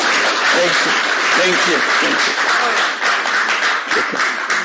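Steady audience applause fills the space throughout, dense and sustained clapping with a lively crowd, a few voices and cheers mixed in beneath the claps.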